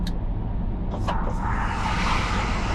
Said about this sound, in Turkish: Bakın tünel sesi bayağı var.